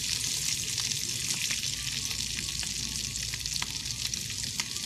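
Food sizzles and crackles steadily in hot oil, a continuous close hiss dotted with small pops, with no voices.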